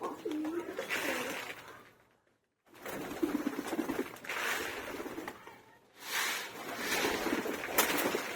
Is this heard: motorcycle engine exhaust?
no